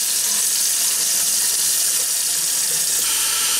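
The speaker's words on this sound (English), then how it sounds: "I'm going to pour the hot water out of the tank" Hot water poured out of a coffee maker's tank during deep cleaning, a steady close splashing stream that runs without pause.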